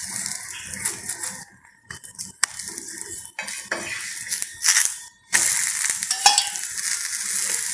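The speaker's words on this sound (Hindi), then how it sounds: "यहाँ पे हम पराठे को पलट लेते हैं, और इसके ऊपर घी या फिर रिफाइंड ऑयल आप जो भी खाते हैं वो यहाँ पे आप लगा सकते हैं" A paratha fries in ghee on a hot pan, giving a steady sizzle broken by sharp scraping and clinking of a utensil against the pan, with short quiet gaps.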